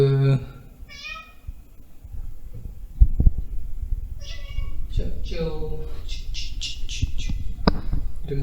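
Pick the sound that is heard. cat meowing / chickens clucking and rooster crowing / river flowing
cat meowing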